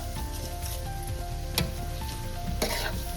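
Whole garam masala spices sizzle and fry steadily in a hot pan for a traditional Koli-style dry clam masala, a continuous close crackle with a couple of brief sharper bursts and no talking.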